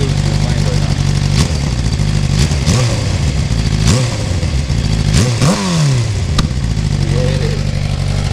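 Suzuki GSX-R600 motorcycle engine running with a slipping clutch, a steady loud drone with several rising and falling revs and sharp clattering transients, while people talk over it.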